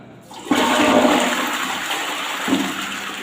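A toilet flushes after cleaning with bleach, producing a loud sudden rush of water that swirls and drains steadily for several seconds, close and with no talking over it.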